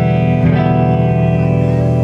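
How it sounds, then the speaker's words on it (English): A sustained electric guitar chord rings out drenched in lush hall reverb, loud and dense, the tail washing on without a break. "let me play this, this reverb."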